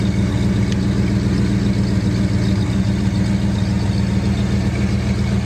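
A 1966 Ford Mustang convertible idles through its stock factory GT exhaust, a steady, close, deep rumble with a smooth, even pulse and no one talking.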